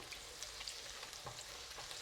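Quiet, steady sizzling of ginger and garlic frying in oil, with soft crackles and occasional faint stirring scrapes, no voices.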